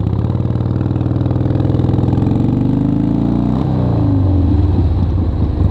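Vintage Harley-Davidson Ironhead Sportster motorcycle engine idling nearby, a loud steady low rumble with a regular pulsing beat and a brief dip partway through before settling back.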